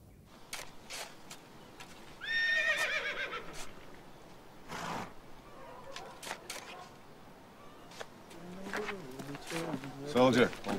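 A horse neighs loudly with a shrill, quavering whinny, then again later, amid scattered hoof knocks and voices speaking.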